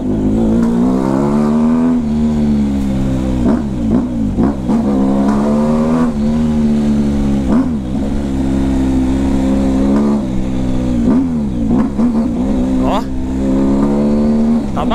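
A straight-piped motorcycle with open exhaust pulls hard from first into second and third gear, its loud, close engine note climbing and dropping at each shift in a continuous roar.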